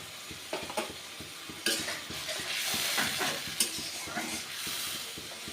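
Rohu fish curry in mustard sauce is stirred and sautéed in a pan, with spoon scrapes and taps over a continuous soft sizzle, close and moderately quiet.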